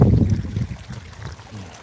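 Feet splash through shallow creek water while wading across in search of shark's teeth near Summerville, South Carolina; a close, brief burst of sloshing at the start fades into softer watery movement with wind buffeting the microphone.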